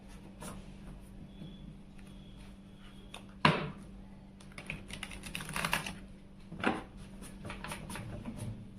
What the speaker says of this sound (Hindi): यहाँ पे कार्ड शफल हो रहा है